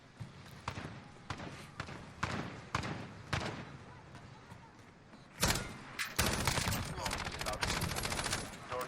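Gunfire from the video game Call of Duty: Modern Warfare comes as sharp, spaced single shots, then a louder dense burst of rapid fire near the end.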